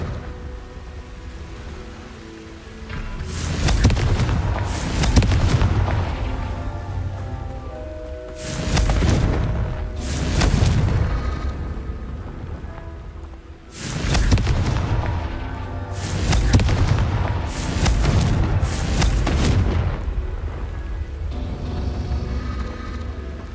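Fire-spell explosions from the Hogwarts Legacy video game go off as repeated booming blasts in clusters of two or three, loud and close, separated by brief lulls.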